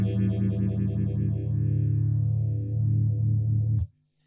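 An electric guitar chord sustains through a Boss Katana 50 MkII amp with the phaser modulation effect on, its tone sweeping rhythmically up and down before it is cut off sharply, with no voices.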